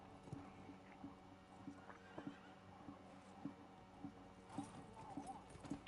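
Video game horse hooves clip-clopping in a steady quiet rhythm, faint and close, with light background game ambience.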